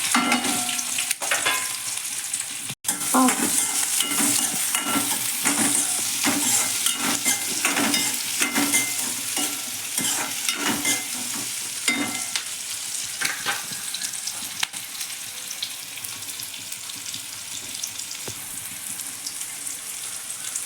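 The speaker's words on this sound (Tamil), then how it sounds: "இப்போ வந்து சின்ன வெங்காயம் பச்சை மிளகாய் போட்டுடலாம்" Shallots and green chillies fry in oil for a goat blood stir-fry, a dense, continuous close-up sizzle with regular clacking stirs of a spatula throughout.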